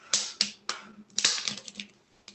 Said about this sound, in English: take your scissors and you're going to cut.